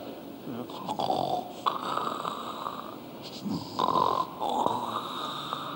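At a church prayer service, a man imitates snoring with several loud, close rasping snorts and wheezy breaths, coming in uneven bursts.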